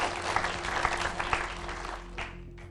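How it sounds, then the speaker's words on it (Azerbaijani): A studio audience at a televised quiz competition claps loudly for a team in a dense, steady burst that thins and fades toward the end. "Sabirabadları da bir alqışlayaq"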